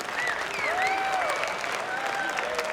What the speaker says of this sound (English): ladies and gentlemen, give it up one more time for EG